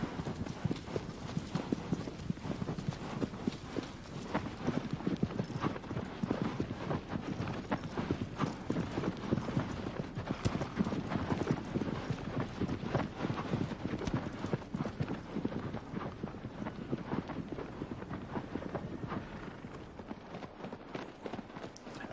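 Horse hooves clip-clop steadily in Shadow of the Colossus, a continuous galloping rhythm on open ground that stays fairly close and even throughout, with no talk over it.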